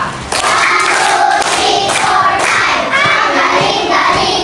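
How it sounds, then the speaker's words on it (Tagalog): A class joins in clapping for a student during a Filipino demonstration lesson modeled on a reality show, rhythmic group claps with crowd voices shouting along, loud and lively, running steadily after a brief quieter start. "gusto ko palakpak kay Kuya Daniel ay 5 palakpak"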